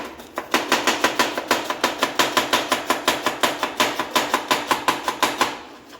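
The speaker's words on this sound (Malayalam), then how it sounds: "എക്സ്പെർട്ട് ഉള്ളി അരിയുന്ന മനുഷ്യൻ" Rapid, even knife chops on a cutting board as onions are sliced for biryani in a home kitchen, around twenty-five crisp strokes in steady rhythm, close and clear with no talking.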